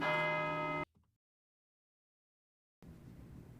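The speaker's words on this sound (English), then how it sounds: "Lisa McNair is using the unity of bells ringing to fight against hate" A bell rings with a sustained metallic tone that cuts off abruptly, followed by near-silence and then a faint, noisy background.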